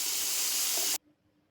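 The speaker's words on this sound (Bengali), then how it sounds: "এবার নুন আর হলুদ মাখিয়ে সামান্য তেলে হালকা করে ভেজে নিচ্ছি" Shrimp coated with salt and turmeric frying lightly in a small amount of oil: a loud, steady, close sizzle that lasts about a second and then cuts off abruptly, leaving near silence.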